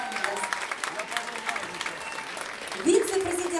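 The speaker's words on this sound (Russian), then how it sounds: "Куприянова Лидия Леонидовна, ваши аплодисменты" Audience applause at a contemporary folk music festival, a steady crowd clapping that carries on over a nearby voice speaking, with a louder swell toward the end.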